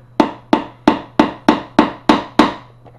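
Eight sharp hammer strikes on wood during a bathroom remodel land in a steady, evenly spaced rhythm, each one loud and close with a ringing decay, and a low steady hum runs underneath.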